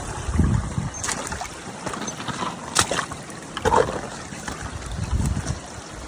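Creek water flowing steadily in the Alaskan wilderness, a continuous broadband rush with a few louder splashes, heard close and alone.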